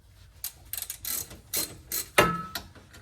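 Differential cover bolts on a 2002 Camaro with an LS1 are loosened by hand, giving a series of quick metallic ratchet clicks in short bursts separated by pauses, with one sharper clank near the end.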